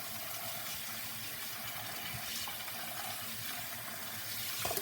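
Cold tap water runs steadily over rice as it is rinsed, a continuous gushing splash with small clatters near the end.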